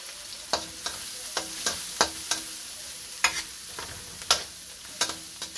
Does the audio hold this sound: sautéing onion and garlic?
yes